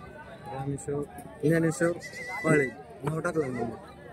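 Goats bleat repeatedly at a goat and sheep market, several wavering calls close by with people talking throughout.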